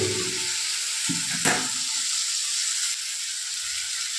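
Fish eggs fry in a hot pan for a fish egg fry curry, giving a steady, close sizzle with a brief stirring scrape partway through.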